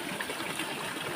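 Spring water pours steadily from a tap fed directly by the spring, a continuous soft hissing rush, faint and even, with no voices.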